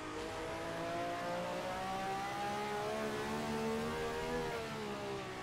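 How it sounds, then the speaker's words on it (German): A race car's engine revs in the Assetto Corsa racing game on the full 1967 Nürburgring layout, a loud sustained whine with rising and falling harmonic tones as it accelerates, no voices. "Hör den Motor zu."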